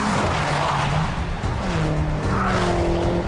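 A highly tuned turbocharged car is driven on the road, its engine note rising and falling in steady pitch sweeps under loud broadband road and wind noise, close and continuous throughout.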